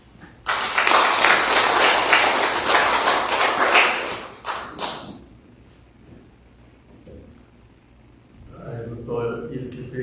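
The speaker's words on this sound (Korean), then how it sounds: "우리 목사님 나오실 때 박수로 환영해 드리겠습니다." A church congregation at a Korean Sunday worship service claps to welcome the pastor: dense applause for about four seconds, then a few scattered claps, followed by quieter sounds and some low tones at the end.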